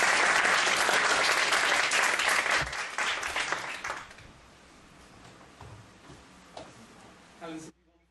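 Loud live-show audience applause for a comedy magic act, dense clapping for several seconds as a performer joins on stage, then thinning to scattered claps and fading out.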